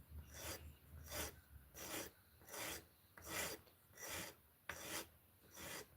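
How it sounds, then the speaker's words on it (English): A peened pin being sanded flush on a slipjoint knife handle, taped to protect the scales: about eight regular rasping back-and-forth strokes, close and quiet, with no talking. "you'll see the pin will show up there when I start sanding"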